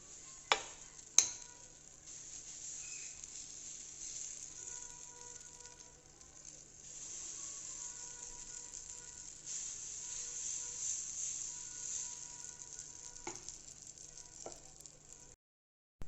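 Small Hyderabadi chillas of batter sizzle steadily on a pan over a low gas flame, a quiet continuous frying hiss with a few sharp clicks near the start.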